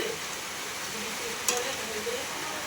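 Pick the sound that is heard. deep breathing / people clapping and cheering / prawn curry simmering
prawn curry simmering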